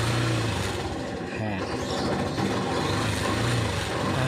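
A Yamaha YTX 125 motorcycle engine runs just after being kick-started, a rough, loud close-up chug beneath a voice talking over it.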